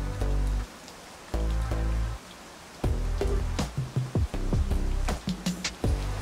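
Rain falls steadily around a dam facility, a dense rushing patter that swells and drops in stretches, punctuated by sharper drip-like taps toward the end, with no voices.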